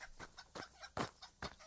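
Chickens clucking in a rapid, uneven series of short, close clucks with no voices.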